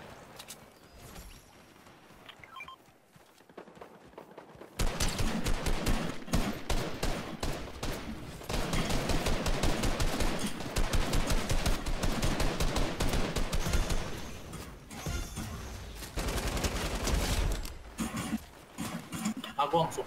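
Dense bursts of rapid gunfire in the video game Fortnite erupt after a quiet opening, rattling on in volleys mixed with clattering hoof-like thuds while voices talk over it.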